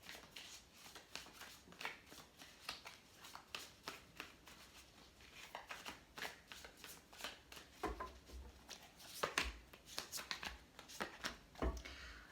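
Tarot cards are shuffled by hand in a quiet room, giving repeated soft riffling and slapping bursts over a dozen seconds, faint and close, with no talk.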